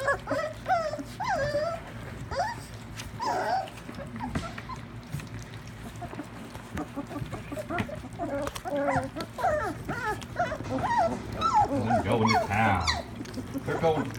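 A dog whimpers, whines and lets out occasional growls and barks while wanting food given to puppies at mealtime, intermittent close vocalizations mixed with people talking over it.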